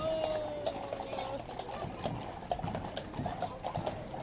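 Several horses' hooves clop irregularly on hard ground on a busy morning outdoors, moderately distant, under a steady wash of crowd and street noise with a high ringing tone.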